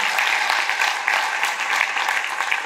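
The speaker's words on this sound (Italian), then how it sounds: "Riccardo, facciamolo sentire forte l'applauso." Audience applause at a conference on climate change and the agri-food sector in Agliè, Italy: steady, dense clapping from a seated crowd, loud and continuous throughout with no voices over it.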